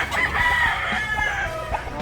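A rooster in a simple backyard coop with fighting-cock breeds crows one long drawn-out call up close, with clucking hens and farm ambience underneath.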